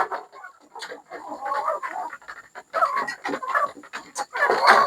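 Native backyard chickens cluck and chatter close by, a busy run of short irregular clucks and squawks from several birds, with no talk.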